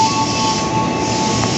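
Commuter train arriving at Bogor terminus station in Indonesia, a steady loud rumble of rolling cars with a thin sustained wheel squeal running throughout, no voices.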